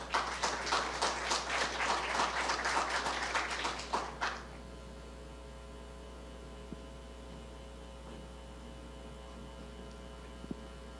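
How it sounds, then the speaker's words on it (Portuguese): Conference audience applause, a dense burst of clapping for about four seconds that then stops abruptly, leaving a quiet room with steady electrical hum and a couple of faint clicks. "eu peço, então, a vocês para dar uma salva de palmas"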